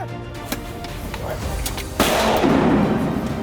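A shotgun blast goes off during a duck hunt, one sharp report near the middle with an outdoor rumble trailing after it, and a hunter's voice can be heard around it.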